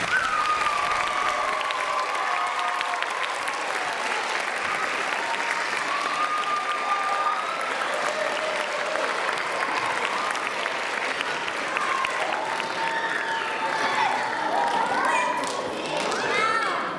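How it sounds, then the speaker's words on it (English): An audience of loved ones and family at a fourth-grade school Havdalah ceremony gives a long, loud round of applause, dense clapping sustained throughout with children's voices and cheers mixed in. "give them all a big round of applause"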